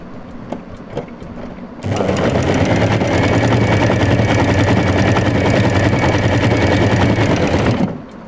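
An Usha Janome sewing machine sews a gathering stitch, starting after a few light ticks and running as a loud, fast, even mechanical whir for about six seconds before stopping.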